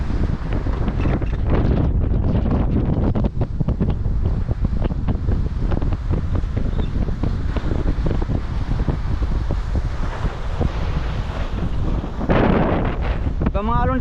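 Strong wind roars and large sea waves surge around a motherboat in rough waters of the West Philippine Sea, a loud, continuous wash with buffeting against the microphone.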